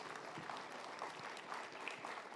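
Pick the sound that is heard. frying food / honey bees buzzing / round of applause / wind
round of applause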